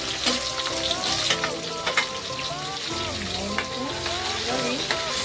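Tomatoes are added to onions frying in a pan, giving a bright, continuous sizzle with stirring scrapes and a low murmur of voices underneath.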